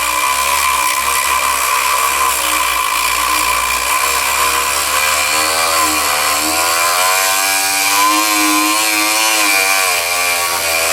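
A Dremel rotary tool whirs steadily on its lowest speed setting, working on a Stoeger M3000 shotgun loading port, a continuous close buzzing drone with a slightly wavering pitch and no pauses.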